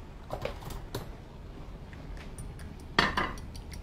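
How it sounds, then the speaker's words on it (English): Eggs whisked in a bowl give a few scattered light clinks and taps of a whisk against the bowl, with one sharper clatter near the end, fairly quiet and close. "Whisk the egg first a little bit."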